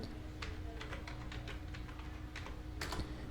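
Quick bursts of keystrokes on a computer keyboard, close and fairly quiet, tapping in uneven clusters with short pauses over a steady low room hum, with no talking.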